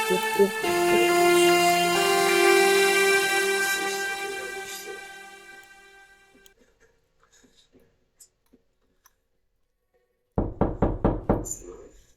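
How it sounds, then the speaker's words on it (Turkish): Sharp knocking on a door, a quick burst of about six raps near the end, coming after a sustained tonal drone fades out into near silence. "Kapı mı çaldı?"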